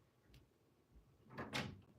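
A cat bangs against a closed door trying to get in, giving two faint early knocks and then a louder rattling thump pair near the end, with no talk.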